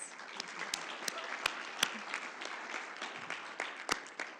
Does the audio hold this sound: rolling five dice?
no